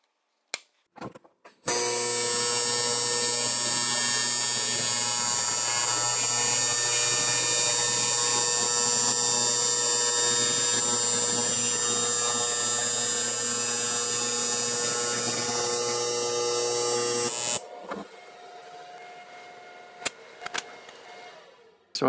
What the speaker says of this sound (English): I'm going to go ahead and finish weld this now.